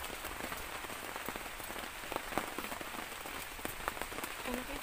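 Heavy rain falls at night on a forest campsite where a tree house is being built, a dense steady hiss with scattered drops tapping nearby throughout, no voices.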